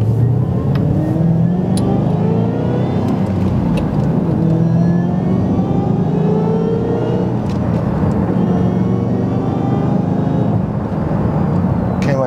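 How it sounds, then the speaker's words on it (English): A 2008 Ford Mustang GT500 with a supercharger accelerating hard through three gears, its engine note rising and dropping with each shift, loud and steady from inside the car with no talk. "my foot's on the gas. I'm gonna shush, and we're gonna go through the gears."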